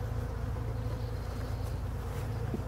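Honeybees from a young swarm, roughly a month old, hum steadily and densely around the hive, a continuous close buzz with no voices.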